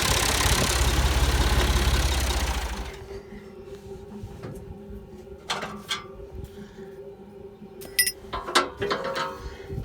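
A tractor engine runs loud and close, pulling a hay mower, then shuts off after about three seconds, leaving quiet metallic clinks and small mechanical clatter.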